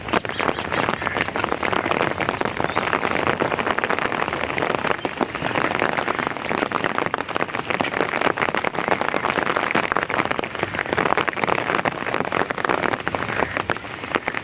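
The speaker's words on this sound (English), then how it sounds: "It is raining for quite some time." Steady, dense rain pattering on surfaces all around, a continuous hiss with no voices.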